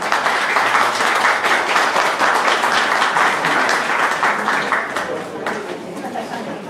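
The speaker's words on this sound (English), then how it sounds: "Let's give him another round of applause," An audience applauds speaker Dick Yardley at a My Place gathering in Gympie, with steady, dense clapping lasting several seconds, mixed with some chatter, before tapering off near the end.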